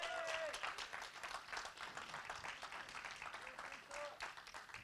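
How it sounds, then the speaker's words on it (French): Audience at an agile conference in Grenoble applauding, a dense, sustained wash of many hands clapping in a hall, steady and moderately loud throughout. "ce que je vous propose, c'est d'applaudir très très fort tous les sponsors."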